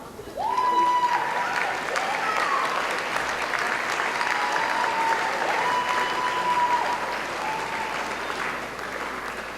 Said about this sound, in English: Let's have a round of applause for all the CAPLA graduates.